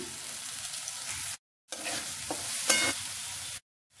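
Spiced potato masala sizzles in hot oil while a utensil stirs and scrapes the pan, close and continuous apart from two brief silent breaks.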